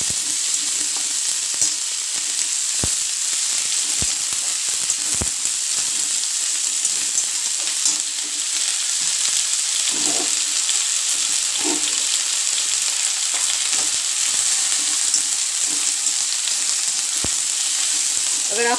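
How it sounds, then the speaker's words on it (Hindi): Ginger, spring onions and green chillies sizzle steadily in hot oil in a pan, a loud continuous frying hiss with occasional stirring clicks and scrapes. "मैं इसमें पत्ते वाली प्याज डालूंगी, और हरी मिर्च मोटी मोटी बारीक काट करके"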